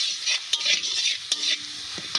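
Onion-based spice paste for tilapia curry fries and sizzles in a pan, with a few sharp spoon scrapes as it is stirred, close up and without talk.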